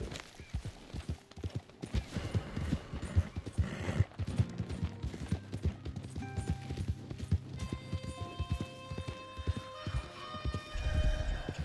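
Horse hooves clip-clopping at a gallop in the Red Dead Redemption 2 video game, a steady rapid hoof rhythm with occasional whinnies, game music and distant gunfire in the background.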